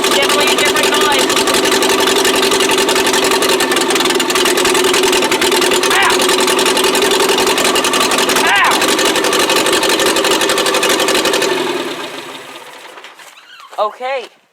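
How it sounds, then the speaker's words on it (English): A 1959 Morris Minor engine idles with one spark plug wire pulled off, a loud, steady, uneven mechanical drone held close for about twelve seconds before it drops away into quieter sounds. "That's definitely a different noise."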